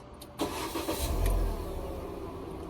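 A Proton Saga VVT car, gearbox in neutral, starts up: a short burst of cranking catches into a louder engine roar, then settles into a steady idle close by with no talking.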